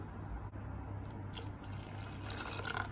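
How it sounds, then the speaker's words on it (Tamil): Water is poured into a bowl of rava dosa batter made with semolina, thinning it for crispy dosas; a steady, close splashing pour runs throughout with no talking. "நம்ம இது கூட நிறைய தண்ணி ஆட் பண்ண போகிறோம்"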